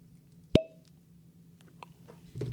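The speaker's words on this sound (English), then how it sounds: "So Tracy, this cork pop is for you." Cork popping out of a tequila bottle: a single short, fairly quiet pop near the start, followed by faint handling noises.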